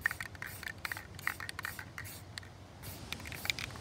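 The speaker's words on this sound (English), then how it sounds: "so we're just gonna spray paint it up a little bit." Spray paint hissing onto a homemade pumpkin and snowball launcher in short repeated bursts, each a soft airy hiss with a faint rattle underneath, close by with no talking.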